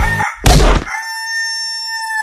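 An aggressive rooster gives a loud, close crow: a brief harsh opening burst, then a long, sustained, tonal cock-a-doodle-doo held steady to the end.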